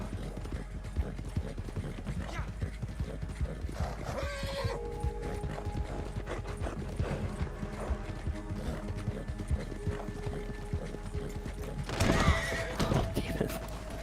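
Rhythmic hoofbeats of a galloping horse with a couple of sharp neighs, set against game music and background effects in Red Dead Online.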